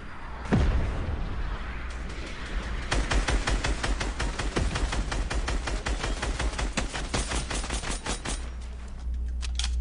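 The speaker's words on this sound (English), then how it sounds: "Whoever's shooting rockets." Rockets and gunfire in the video game Fortnite: a rapid, continuous barrage of sharp bangs and booms, loud and dense, starting with a heavy blast and running almost nonstop through the whole stretch.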